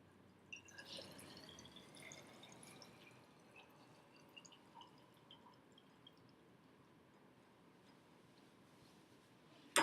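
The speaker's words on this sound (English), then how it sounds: "you are mixing the ethanol into the water right now" Ethanol pours and trickles into water, with soft splashing and dripping that fades over several seconds; faint and fairly close, with no talking.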